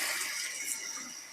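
Running water rinsing six medium yellow potatoes for schnitzel side prep, a steady hissing splash that stays even and close throughout, with no talking.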